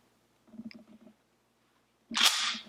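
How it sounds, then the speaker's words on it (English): An M1 Garand bolt slams forward and chambers a round after the clip is pressed in: one sharp, loud metallic clack near the end, preceded by quiet fumbling and handling of the rifle. "You're going to press your clip in, and it'll release this bolt."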